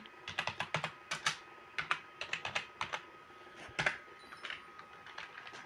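Rapid computer keyboard typing during a Minecraft Bedwars session, crisp clicky keystrokes in irregular bursts with short pauses, close and fairly quiet, no voices.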